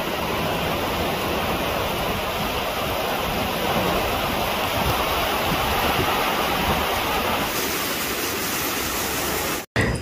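Strong sea waves during stormy weather on an island, a steady loud roar of surf and wind that fills the whole stretch and cuts off abruptly near the end.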